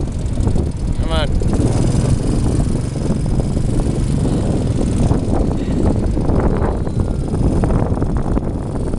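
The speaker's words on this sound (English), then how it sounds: "first time driving a four-wheeler" A four-wheeler ATV engine drones steadily throughout a ride in Montañita, Ecuador, a loud continuous rumble mixed with wind buffeting and a brief whistle-like chirp near the start.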